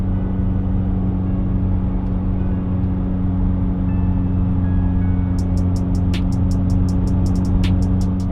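A Mitsubishi Evo X with a new turbo and an exhaust leak runs on a drive, giving a steady, loud low rumble and whir throughout, with faint high clicks near the end.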